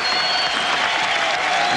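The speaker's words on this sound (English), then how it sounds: "And Fairbrother gets a terrific hand from this crowd" Cricket crowd at the 1994 Hong Kong Super Sixes final, Australia against England, applauding batsman Fairbrother with steady, sustained clapping from a large stand, loud and even, with a commentator's voice faintly over it.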